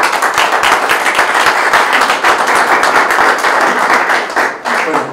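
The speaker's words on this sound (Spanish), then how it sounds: "Un fuerte aplauso, por favor." Audience at a night-of-museums inauguration in Sopocachi gives loud, dense, sustained applause from a crowd of many hands, steady throughout with no speech over it.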